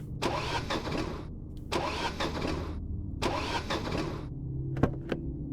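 In the Pavane horror game, a car engine cranks and fails to catch, repeating in three loud, drawn-out sputtering bursts with short silent gaps, followed by a couple of dull clunks.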